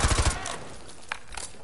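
Rapid automatic gunfire in Call of Duty MW2 Remastered campaign, a quick burst of four or five close, punchy shots up front, followed by fainter distant pops.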